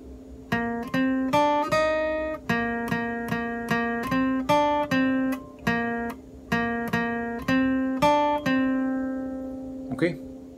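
Solo guitar playing the lead phrase from a song, a run of about twenty clear plucked notes in a quick even rhythm, close and alone, ending with a short scrape.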